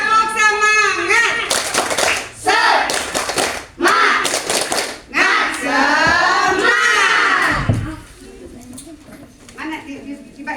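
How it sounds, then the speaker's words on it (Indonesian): Children in a classroom perform a rhythmic spirit clap, several loud clusters of patterned claps in separate bursts, alternating with someone speaking and children's voices close by. "Ya, tepuk semangat."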